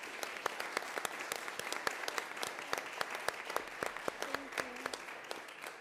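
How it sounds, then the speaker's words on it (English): At a city council meeting, the room gives Counselor Melinda Vega a round of applause. Fairly faint, sustained group clapping has sharp individual claps standing out, and a brief voice or tone is audible near the end. "I just want to give a round of applause to my sister, Counselor Melinda Vega, for organizing this and expanding on it."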